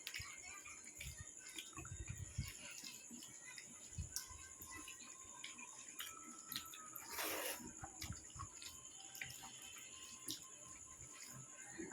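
Water runs from a kitchen tap as a thin, steady faucet stream, faint and continuous, with light clinks and kitchen handling sounds around it and a louder splash near the middle.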